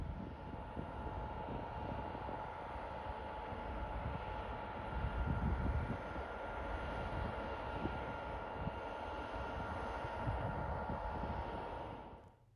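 Two vintage EMD F40 diesel locomotives on the MBTA rumble with a steady, loud, unbroken engine roar and a thin high whine, holding for about twelve seconds before cutting off abruptly.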